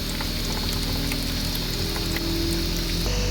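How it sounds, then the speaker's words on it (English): A spin dryer whirls wet tie-dye fabric, a dense, steady roar of rushing, spattering water with a low motor hum underneath, continuous and close. "I just let it spin until it's just a drip drop coming out"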